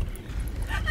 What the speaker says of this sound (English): That's my dog. He's afraid of everything.